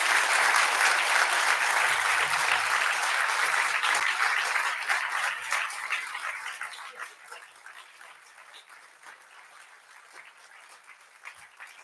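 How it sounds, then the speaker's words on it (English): Graduation audience applauding at an aviation, energy, engineering and rail ceremony, a loud dense clapping that carries on steadily before gradually thinning and fading toward the end. "could you please give a round of applause to everybody here tonight who supported you in your studies?"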